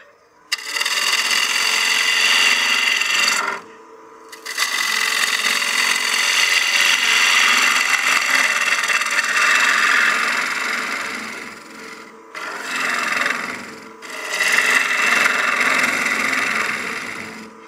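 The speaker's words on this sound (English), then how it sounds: "we'll just keep removing the bulk of the material down in the bottom" Wood on a lathe is hollowed out to shape a succulent planter, with bulk material being cut from the bottom, giving loud sustained scraping and shaving bursts close by, broken by brief pauses between cutting passes.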